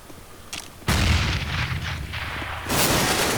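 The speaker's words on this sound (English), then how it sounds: "I'm throwing a grenade. Flashbang. Grenade out." A grenade detonates in Counter-Strike during a pro match, a loud sudden boom landing about a second in and rolling into a sustained rumble, then a second burst near the end.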